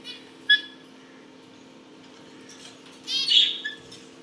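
Pet parrots, wet from bathing themselves on a hot day, give two short, sharp calls: one near the start and a longer chirping burst toward the end. Between the calls there is a steady low hum and near silence.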